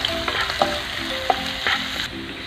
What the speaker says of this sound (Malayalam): ഇനി നമ്മൾക്ക് നന്നായിട്ട് വഴറ്റി കൊടുക്കാം